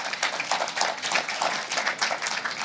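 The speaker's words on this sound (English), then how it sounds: "Give him a hearty clap. Give him a good clap." An audience at an advocates' admission ceremony applauds for the Kenya Power managing director, a steady, fairly distant patter of many hands with no talking over it.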